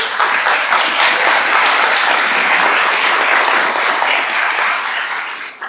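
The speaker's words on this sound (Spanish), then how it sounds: "Entonces otro aplauso para el compañero." Dense, steady applause from an audience fills the room at a community pedagogy gathering in Sumapaz, honoring a fellow participant; the clapping stays loud and continuous before tapering at the very end.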